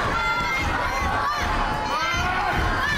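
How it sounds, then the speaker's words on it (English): Live wrestling event crowd roaring and cheering, a dense, loud wall of shouting voices at close range. "you can just hear the crowd just erupt"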